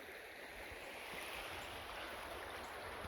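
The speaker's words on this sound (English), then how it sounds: "Nice pretty creek though, running down through here." A small creek flows steadily through a snowy wooded area, a faint, even hiss of running water with no other distinct sounds.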